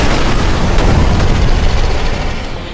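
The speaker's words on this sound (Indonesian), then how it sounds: "dan terjadilah ledakan" A heavy explosion from the animated film Resident Evil: Death Island, a loud, dense broadband roar with deep rumble that holds steady and then eases slightly toward the end.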